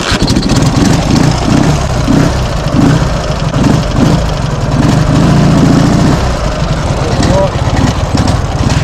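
Dnepr MT11 motorcycle engine running while riding, with PZ30 carburettors fitted and no accelerator pumps, a loud steady pulsing drone with some revving throughout, and a voice speaking over it.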